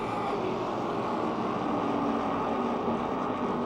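Open-wheel modified race cars roar around a speedway during a race, a steady loud blended engine drone heard from a distance without speech.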